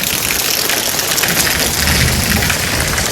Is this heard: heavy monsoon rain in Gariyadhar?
yes